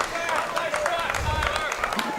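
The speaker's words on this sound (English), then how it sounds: "Resounding sigh from the crowd going, ooh, because that was about as close as it can get" Crowd at a men's college soccer match lets out a brief, broad groan after a shot flies just high of goal, a swelling mass of voices rather than cheering.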